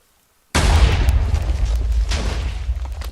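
A TNT cannon in the game Minecraft fires and explodes: after half a second of silence, a loud booming blast breaks out, followed by a rumbling tail with further pops and bangs.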